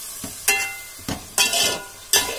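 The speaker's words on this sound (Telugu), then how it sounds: "కర్రీ వేసుకున్నాక ఒక 2 నిమిషస్ చక్కగా ఇలా వేయించుకోవాలి" Curry leaves fry with masala in a pan for mutton pulao, a soft sizzle under a few distinct scraping stirs of a spoon, close and fairly quiet with no talking.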